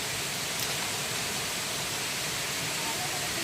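The Sesharai waterfall, a hidden fall surrounded by dry leaves, pours with a constant, full hiss of rushing water, steady and close, with no voices heard over it.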